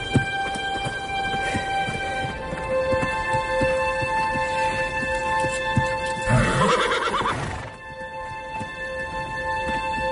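A horse neighs and whinnies over steady background noise, with clip-clopping hooves and a louder, drawn-out whinny near the end.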